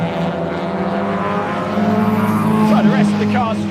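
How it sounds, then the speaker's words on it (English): MG Metro Cup race cars stream past on the circuit, a loud sustained engine roar that swells and pitches as they go by, with a commentator talking over it. "So the rest of the cars streaming through."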